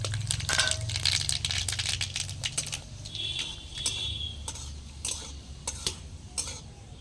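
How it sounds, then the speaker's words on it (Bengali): Mustard seeds frying in hot soybean oil in a pan, sharp crackling pops and spits scattered over a soft sizzle, with utensil clinks, close up. "সর্ষেটা আমার ভাজা হয়ে গেছে বন্ধুরা"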